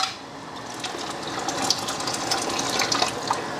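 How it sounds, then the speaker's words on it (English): Water boils in a water-bath canner, bubbling and simmering steadily at a moderate volume, with small crackles and pops rising through a continuous hiss. "my water is boiling"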